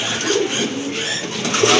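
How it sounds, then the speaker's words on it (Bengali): Pigeons in a market setting give soft low coos amid a murmur of background noise, faint and brief. "দেখেন কবুতর ডাক দেখেন"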